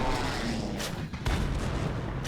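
In a tank battle video game, a Panzer III's shell strikes and bounces off armor, a sharp impact burst amid a continuous rumble of engine and battle noise, with two or three short louder bangs.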